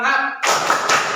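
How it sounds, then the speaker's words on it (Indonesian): A classroom group performs the Indonesian 'tepuk semangat' clapping chant, a burst of loud, dense hand claps coming in together after a spoken lead-in voice, with the clapping continuing steadily to the end. "Tepuk 1, tepuk 2, tepuk 3, tepuk semangat."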